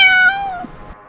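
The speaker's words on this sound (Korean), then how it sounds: "근데 갑자기 저희 레오 비명 소리가 나서" A house cat screams once, a loud, close, drawn-out cry that fades away into a brief rustle and then silence.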